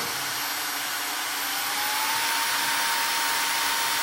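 A steady, loud broadband whoosh of air from a Dyson HushJet Mini Cool personal fan running on boost mode, constant and unbroken throughout, with a faint high whine riding on top.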